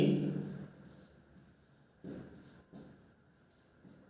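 Chalk or marker strokes scratching across a board during a coordinate geometry lesson, a dense burst at the start and short bursts later, fairly close, with quiet gaps between.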